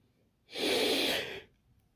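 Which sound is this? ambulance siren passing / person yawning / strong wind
person yawning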